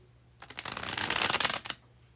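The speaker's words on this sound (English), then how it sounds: "we're going to do the bridge shuffle." A deck of playing cards gets a bridge shuffle, a single close, bright riffling burst lasting just over a second that fades in and cuts off cleanly, with no voices.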